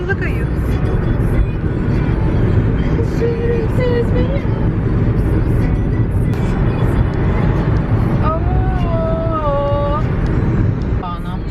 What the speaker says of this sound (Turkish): Bir dakika Meryem de araba sürüyor.